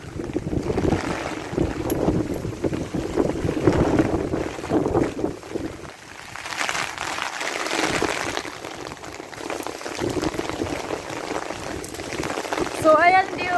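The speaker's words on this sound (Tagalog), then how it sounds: "Grabe ang lakas ng hangin." Strong typhoon wind from Typhoon Saola at a seaside spot in Hong Kong roars in continuous buffeting gusts against the microphone, mixed with heavy rain, a loud and unbroken rush with brief lulls.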